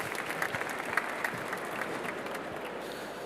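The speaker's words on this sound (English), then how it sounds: "A big applause for Jaco." Conference audience applauding after a talk on pan-European EV charging interoperability, a moderate round of clapping with some sharper individual claps early that thins into a softer, steady patter.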